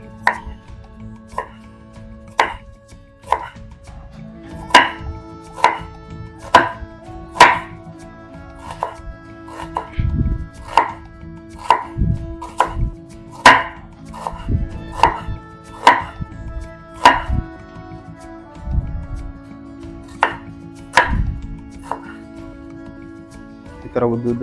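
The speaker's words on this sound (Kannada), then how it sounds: "ನೆಕ್ಸ್ಟು ಈರುಳ್ಳಿ ಕಟ್ ಮಾಡ್ಕೊಳ್ಳೋಣ ಒಗ್ಗರಣೆಗೆ." Onions sliced lengthwise on a chopping board for tempering, with a steady series of sharp, close knife taps, some quick runs and pauses, while a person talks throughout.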